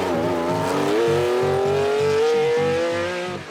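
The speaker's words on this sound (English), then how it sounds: "These are racing cars. You have to drive them and let others enjoy them." A racing car in the Tour Auto 2023 event driving on an open road, its engine loud and close, revving steadily higher through a gear with a rising, droning tone and a rhythmic pulsing beneath, fading slightly at the end.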